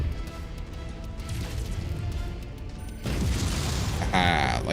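Mech weapons fire in the MechWarrior video game, a dense rumbling barrage of booming shots and mechanical noise that swells louder with sharp bursts near the end.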